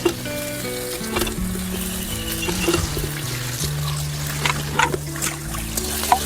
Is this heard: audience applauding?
no